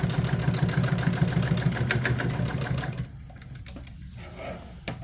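A sewing machine runs steadily for about three seconds, stitching back and forth to lock a seam joining two pieces of material, then stops and leaves a quiet room with faint small clicks.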